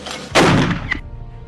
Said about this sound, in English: Cannon loaded and ready